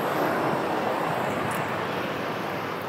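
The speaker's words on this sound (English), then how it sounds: "A lot of low-flying helicopters" A low-flying helicopter passes over Rockaway Beach, New York, in the aftermath of Hurricane Sandy, a continuous loud rotor and engine roar filling the moment without talk.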